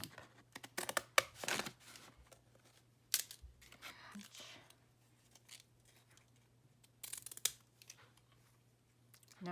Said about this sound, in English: use a piece of that coffee dyed paper again and cut out another little stamp